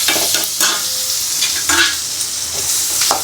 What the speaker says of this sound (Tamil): இதெல்லாம் வதக்கி விட்டு தண்டு எடுத்து போட்டு வணக்கினா